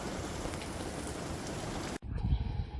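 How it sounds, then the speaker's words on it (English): Heavy rain pours on a campsite in Kgalagadi at night during a storm, a dense, steady hiss of drops on surfaces that cuts off abruptly near the end, leaving a quieter low rumble. "It was a long night, and the rain did not stop"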